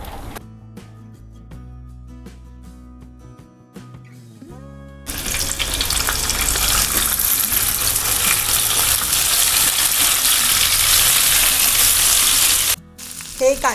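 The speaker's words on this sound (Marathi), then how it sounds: "इकडे तवा ठेवला, याच्यावर कांदा, टोमॅटो आणि लसूण भाजणार आहे" Onion, tomato and garlic roast on a hot tava for Maharashtrian misal, a loud, steady sizzle that bursts in about five seconds after a quiet start, holds close and continuous, then stops abruptly near the end.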